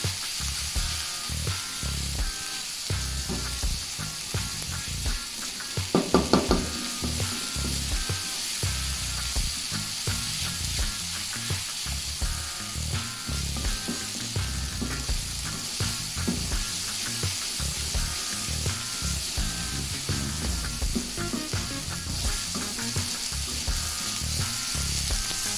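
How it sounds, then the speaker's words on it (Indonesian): Steady sizzling and crackling of spices frying in hot oil for spicy balado mackerel continues throughout, with a few louder clinks partway through. "Kita goreng sampai harum."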